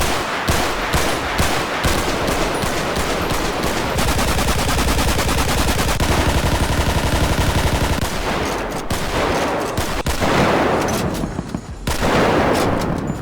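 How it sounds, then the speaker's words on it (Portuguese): Rapid automatic gunfire in GTA 5 with a realistic weapon sounds mod based on Modern Warfare 3, dense loud bursts and sharp single shots crackling continuously in close succession without any speech. "eu instalei o Realistic Weapon Sounds, que traz novos sons para todas as armas."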